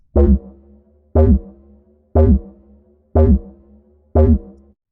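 Five evenly spaced percussive hits, about one per second, each with a punchy low attack and a short decaying tail, treated with automated pitch shifting from the Sound Shifter plugin in Logic Pro X.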